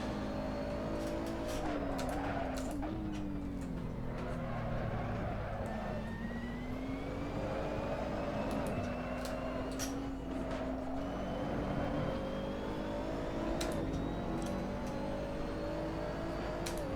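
A McLaren race car in Assetto Corsa, Blancpain Sprint Series at Misano, holds a loud, steady engine note that climbs and falls with throttle and gear changes. It runs nonstop for the whole stretch, with no talk.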